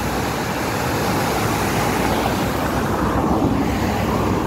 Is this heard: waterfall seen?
yes